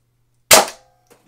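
A single sharp snap fires from an Indra bolt-action spring blaster, loud and close, decaying over about a quarter second, followed by a faint short click.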